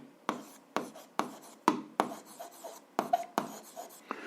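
A pen on paper marks out a seventh-grade algebra exercise in close, quiet scratches, about nine quick strokes each opening with a crisp tap, steady in rhythm and free of talk.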